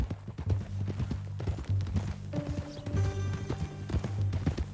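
Rhythmic clip-clop of horse hooves at a steady walking pace in Red Dead Redemption 2, fairly close, with a low rumble and some faint tonal music-like sounds in the background.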